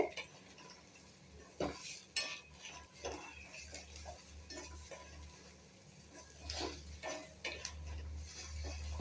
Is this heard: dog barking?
no